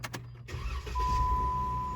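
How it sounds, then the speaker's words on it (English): A 2016 Jeep Wrangler Unlimited starts up with a short cranking catch, then settles into a steady, close idle that runs without any voices. "So I'm going to start the engine,"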